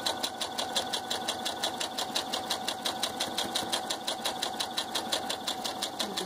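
A sewing machine stitches a puff quilt in a steady, fast run of even mechanical pulses, close and continuous with no voices.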